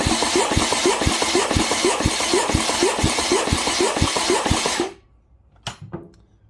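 A 2006 Kawasaki ZX10R engine that has been sitting for three years, cranking over on the starter for a compression test: a loud, rhythmic chugging pulse that stops abruptly, followed by a few faint clicks.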